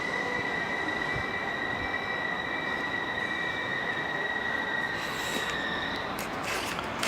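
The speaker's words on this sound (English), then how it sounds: "About to depart is going to be the 1454 Greater Anglia service to London Liverpool Street" A Greater Anglia passenger train departs Chelmsford station, its steady rumble filling the platform with high, sustained wheel squeal ringing throughout and a brief clatter near the end.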